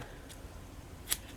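Scissors snip through tulle once, a single short crisp cut standing out from quiet background with a fainter snip just before it.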